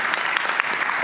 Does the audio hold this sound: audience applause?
yes